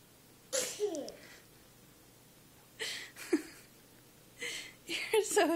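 A child fakes sneezes, imitating a real one: three short breathy vocal bursts spaced a couple of seconds apart, close to the mic in a quiet room.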